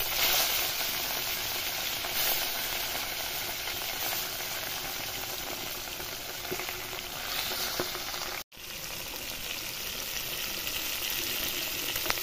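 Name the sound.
rohu fish frying in oil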